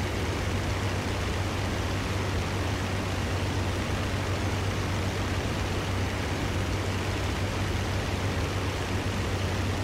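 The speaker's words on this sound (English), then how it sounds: "raining now." Steady, dense hiss of heavy rain in a VR Hurricane fighter-plane dogfight game, with a low constant hum underneath, continuous and unchanging throughout, no voices.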